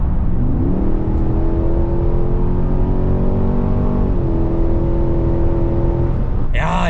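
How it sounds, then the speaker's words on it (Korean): A large 5.8-metre SUV's roughly 6200cc, 426-horsepower engine revs hard and steady at full throttle, a loud droning roar holding its pitch as the vehicle accelerates, with a brief rustle at the end. "엔진음이 진짜 듣기 좋다"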